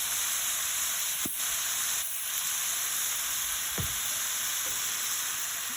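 Prawns dropped into a hot pan fry with a steady, loud sizzle and hiss throughout, broken by a few soft clinks and stirring scrapes against the pan.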